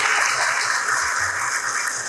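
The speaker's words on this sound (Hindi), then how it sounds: "एक बार जोरदार बड़े ताली बजाइए आप।" Sustained applause from a large audience packed into a crowded hall at a political rally in Bhopal, dense and even from start to finish with no voices on top.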